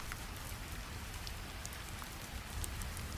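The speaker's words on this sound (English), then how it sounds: "Outside the stone walls, rain falls softly." Soft, steady rain falls just outside stone walls, an even continuous patter with scattered close drops and no voices.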